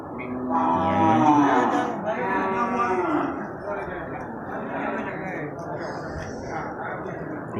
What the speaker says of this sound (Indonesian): Ini satu kerbau jantan albino.